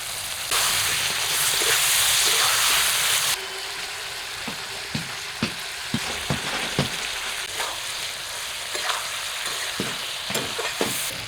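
Loud frying sizzle of winter vegetables in oil and spices at first, then a softer crackle broken by repeated spatula scrapes and taps as they are stirred in the pan.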